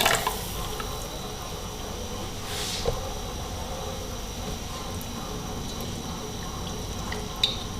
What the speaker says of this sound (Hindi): थोड़ा मैं और पानी डाल दूंगी।